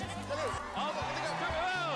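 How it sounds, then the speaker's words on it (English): Several goats bleating in a wavering, overlapping chorus close by, with repeated calls rising and falling over two seconds while a person talks over them. "Oh man, that's a lot of goats."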